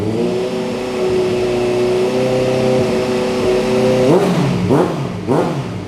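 A 2016 Honda CB650F fitted with an Akrapovic slip-on exhaust holds a steady idle, then is blipped through several fast revs that climb and drop quickly, loud and close-up.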